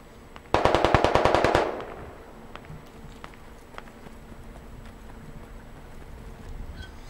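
Rapid burst of automatic gunfire in the military shooter game Squad, a dozen sharp loud shots in about a second, followed by faint distant single shots and ambient battlefield noise.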